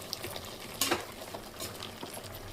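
A spoon scrapes and stirs ground tomatoes in oil in a pan, a few distinct strokes over a soft sizzle, close and fairly quiet.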